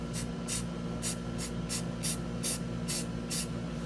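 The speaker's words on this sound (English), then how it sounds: "I like the way the Marsh ink sprays." Marsh stencil ink sprayed from an aerosol can in about eight short, evenly spaced hissing bursts over a low background hum.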